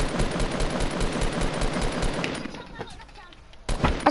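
Tactical shotgun blasts and other gunfire in a Fortnite battle royale match crackle in rapid, dense bursts, then thin to scattered shots after a brief lull, all under excited voice chat.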